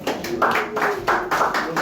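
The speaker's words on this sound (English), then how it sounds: "Please, can we clap for her?" Seminar audience on cryptocurrency clapping, a dense burst of many hands in quick uneven rhythm, close and fairly loud, with voices mixed in.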